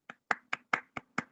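Six crisp hand claps ring out in a classroom during a form 4 lesson, evenly spaced in a steady rhythm, fairly quiet and close, with no talking over them.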